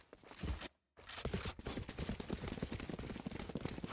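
Shotgun fire in Valorant during a collegiate tournament match, with dense, continuous bursts of gunfire and impacts after a brief gap, loud and busy game audio with no talk over it.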